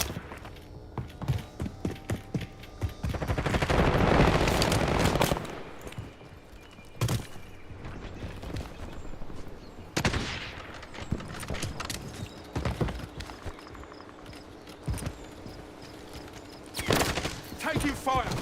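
Bursts of automatic gunfire and scattered shots in Call of Duty Warzone, loud rattling volleys broken by pauses, with occasional radio-style voice callouts.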